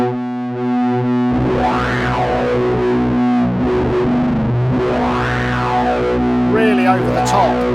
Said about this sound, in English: it's an analog distortion. It gives you that kind of warm extra fuzz